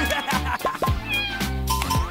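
A cat meows repeatedly, several rising and falling cries close to the listener with short gaps between them, partly overlapping a soft music bed and no speech.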